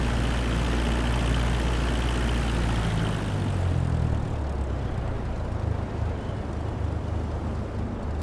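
Cessna 172 propeller engine droning during a climb to altitude, a loud steady rumbling roar heard from inside the cabin, continuous throughout with a slight shift in tone midway and no speech.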